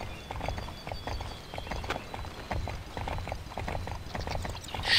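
A horse's hooves clip-clop steadily in the Wii game Barbie Horse Adventures Riding Camp, a fast, even trotting rhythm of close, moderately loud beats under light game ambience, with no talking.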